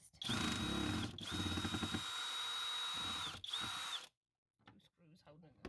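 A power drill removing screws while fitting a TV into a fireplace whines in steady bursts, running up and stopping a few times, with faint clicks and handling noise after it quiets.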